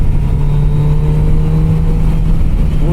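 Kawasaki Z900 RS Cafe motorcycle engine running steadily near Joshua Tree, a loud continuous drone with a sustained low hum and little change in pitch.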